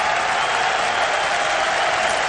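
A stadium crowd applauds at the OFK Beograd against Partizan football match in Belgrade, a dense, even wash of clapping that stays loud and continuous throughout.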